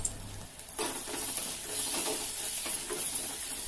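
Curry leaves go into ginger garlic paste sizzling in a pan for a village-style chicken curry with broad beans, giving a sudden burst of crackling over a steady frying hiss, with a few soft stirring scrapes.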